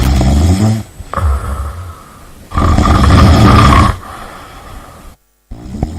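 A man snoring loudly and close, with long rumbling, rattling inhalations separated by quieter pauses, two or three heavy snores in sequence with no talking.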